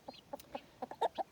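A young chicken clucking in a quick run of about seven short, close, soft calls, unhappy in tone, with no talk.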